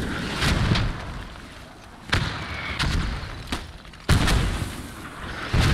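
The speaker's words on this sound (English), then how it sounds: "Good mortar." Mortar rounds land in a Post Scriptum match on the Arnhem map: heavy booms at intervals, a couple of them sharp and close, among rumbling battlefield noise and scattered gunfire.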